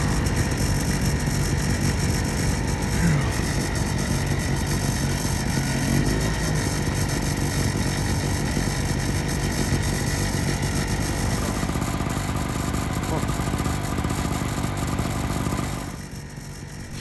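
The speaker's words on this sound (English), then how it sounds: "Until Chaz started the generator." A generator runs at a steady, loud drone on a Western Australia road trip, its constant engine hum filling the air before dropping off near the end.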